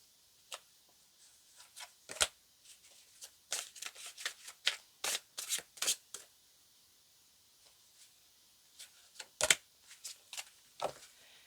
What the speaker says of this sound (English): I'm going to pull out a couple tarot for you.